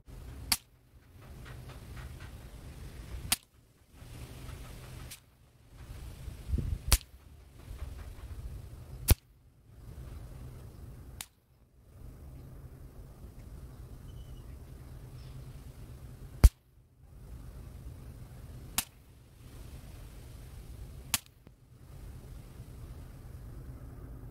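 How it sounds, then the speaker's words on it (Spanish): Sharp, isolated shots from a Kalibrgun Cricket Tactical 2 5.5 mm air rifle, about 970 feet per second, crack out about ten times at irregular intervals, each a brief snap over a quiet outdoor background. "Vamos a dejar grabando por acá y nos vamos a ir a hacer los tiros."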